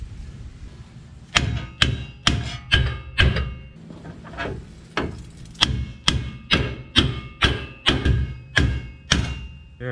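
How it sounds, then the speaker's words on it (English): A big hammer strikes the lower ball joint on a 2007-2014 Chevy Silverado control arm again and again, loud close metallic blows in a steady rhythm of about a dozen hits with brief pauses. "I had to get the big hammer out, put some upward pressure on the control arm with the jack, and then kept hitting it"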